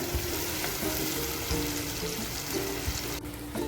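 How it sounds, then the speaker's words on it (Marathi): Onion, tomato and garlic sautéing in hot oil for paneer bhurji, giving a steady dense sizzle with a few scraping stirs of the spatula, close and continuous with no talk. "आता हे चांगलं आपण परतून घेऊ"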